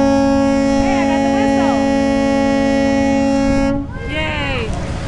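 A ferry boat whistle blows a long, steady tonal blast, cutting off partway through, with voices chattering and faint background noise around it, on a ferry ride to Magic Kingdom.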